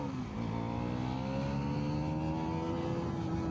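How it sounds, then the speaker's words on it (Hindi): A 2026 Bajaj Pulsar NS400Z motorcycle accelerating under throttle while riding, engine note climbing steadily in pitch through the gear, close and continuous with wind rush, no talking. "अब चलाते चलाते थ्रॉटल दूंगा ज़्यादा,"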